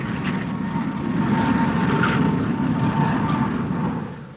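A Vickers Naval Attacker, a naval jet fighter, flying past with a steady engine roar that swells and then fades slightly, heard alone.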